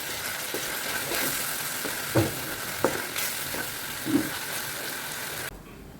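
Spices, onion, garlic and ginger fry in a pan with a steady, close sizzle, broken by a few soft clicks and knocks from stirring; no one speaks.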